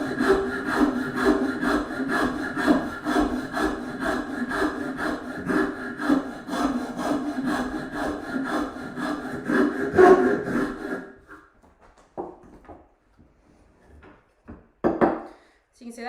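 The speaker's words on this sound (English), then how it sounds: "I'm give this side a quick rasp" A wood rasp files across a woodcarving in a rapid, rhythmic series of rough scraping strokes for about ten seconds, followed by a few scattered scrapes and handling sounds after a pause.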